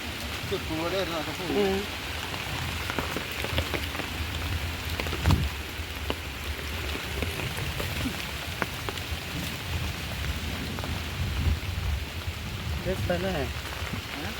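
Steady rain patters on the ground outdoors, a soft continuous wash with occasional louder drops and faint voices in the background.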